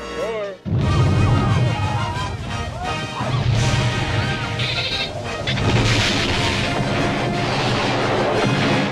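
Huge comedic explosions tear across a golf course during an important golf match in a film scene, a sustained loud roar of blasts and crashing debris with animal-like bleats mixed in.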